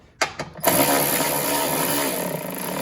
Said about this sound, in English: I use the electric ratchet until they get real close, and I just snug them up.